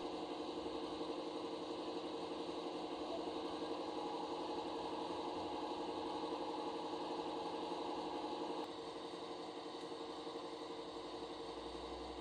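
A Class 55 Deltic model locomotive with its Napier Deltic engine sound runs steadily, producing a continuous, even, buzzing drone with a slight drop partway through, fairly quiet and without talk.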